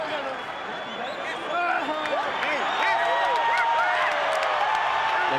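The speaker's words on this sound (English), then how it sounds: "The crowd supporting Marco Antonio Barrera." A boxing arena crowd roars and cheers for Marco Antonio Barrera after his fight with Erik Morales, a dense continuous swell of voices and whoops that grows louder midway, with a commentator's voice faintly mixed in.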